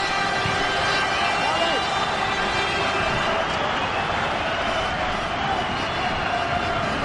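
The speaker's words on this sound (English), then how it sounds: "Applause all round." Stadium crowd at a 2003/04 CIS Cup Final between Cliftonville and Larne after a penalty shootout, a steady dense roar of cheering and clapping that stays loud and continuous throughout.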